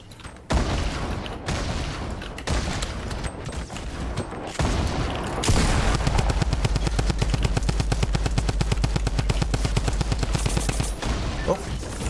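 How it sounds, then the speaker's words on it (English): Video game gunfire in Fortnite, with dense rapid bursts of automatic fire and heavier booms that fit a grenade launcher, loud and continuous throughout the clip, with a faint voice briefly under the action. "you have to left click to shoot the grenade launcher"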